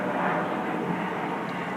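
An airplane flies overhead near a garage, a broad, even rumbling roar that stays constant for the whole short stretch, with no one speaking.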